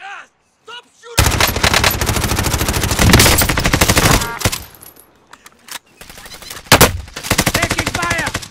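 Rapid automatic gunfire from a Call of Duty: Modern Warfare match, loud bursts of machine gun fire coming in several stretches with brief pauses between them, plus occasional sharper single shots.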